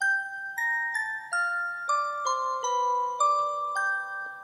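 Layered synthesized bell tones ring out in a stepped sequence, each new chord of bright harmonic partials sustaining and overlapping the last, clear and alone.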